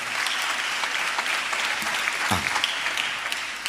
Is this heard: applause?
yes